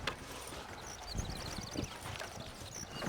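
Faint, steady clip-clop of horse hooves at a walking pace, with light background ambience, in the video game Red Dead Redemption.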